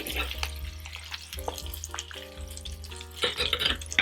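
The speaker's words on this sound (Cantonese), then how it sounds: "反轉一條魚之後，我哋就將佢煎多3至4分鐘。" Flounder frying in butter in a pan after being flipped, a close, steady crackling sizzle that swells and fades with occasional spits and a louder burst near the end, no voices.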